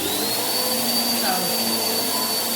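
A Bissell PowerForce Helix vacuum cleaner runs steadily with a loud, continuous motor whine and airflow roar, holding an even level throughout.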